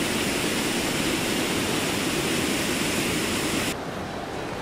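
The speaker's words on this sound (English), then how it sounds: "this little waterfall here" Steady rushing roar of a small waterfall in Glen Helen, Isle of Man, loud and close, a continuous broadband wash of falling water with no voices.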